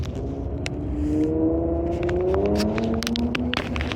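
A car engine revs across the street, its pitch rising and climbing steadily over several seconds as a loud, sustained drone with crackles and rustling close by.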